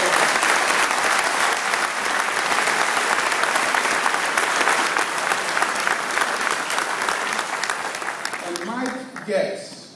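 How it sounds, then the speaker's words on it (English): A large crowd applauds loudly and steadily at a political rally in Yonkers, dense sustained clapping filling the space, then thinning and fading out near the end as voices emerge. "you should applaud that"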